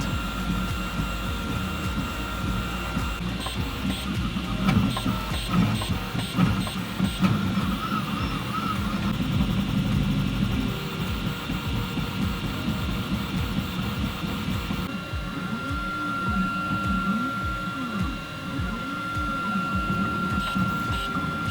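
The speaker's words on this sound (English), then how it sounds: "press start again and the printer is going to resume the print" Steady mechanical whirring with repeated rising and falling stepper-motor tones, a 3D printer working continuously with no voices.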